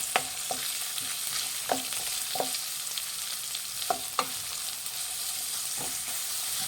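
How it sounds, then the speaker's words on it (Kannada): Chopped onions fry with curry leaves and green chillies in hot oil for tomato rice bath, a steady sizzle broken by sharp scraping stirs of a spatula against the pan at irregular intervals. "ಈರುಳ್ಳಿ ಒಂದು ಸ್ವಲ್ಪ ಚೆನ್ನಾಗಿ ಫ್ರೈ ಆಗಬೇಕು"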